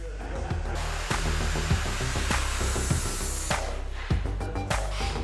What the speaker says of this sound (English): the kitchen fitters meticulously grind all the weld seams